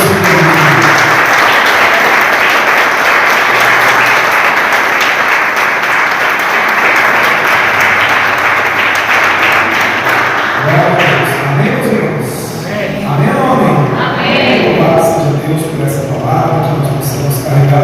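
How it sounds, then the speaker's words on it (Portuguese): A church congregation applauding loudly and continuously for a long stretch, a dense wash of clapping that thins toward the end as scattered voices and shouts rise. "aplaude bem forte o nome do Senhor"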